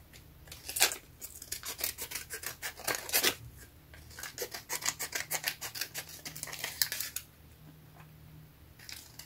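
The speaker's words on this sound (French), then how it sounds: "je viens tourner, couper la carte là où il y a les traits" Scissors cut through a paper card for a junk journal, making a close series of crisp snips in quick bursts with short pauses between them. No one speaks.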